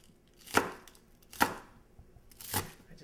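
A knife chopping green onions on a cutting board, three crisp separate strikes spaced roughly a second apart, close and clear in a quiet room.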